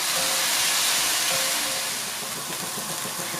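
Chopped onion sautéing in a pan until translucent, a steady loud sizzling hiss that runs without a break and with no voices.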